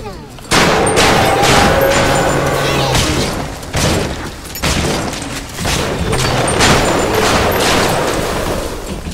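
Exploding buckshot shotgun firing in BioShock, several loud booming blasts in close succession, each trailing into a rumbling roll amid game noise.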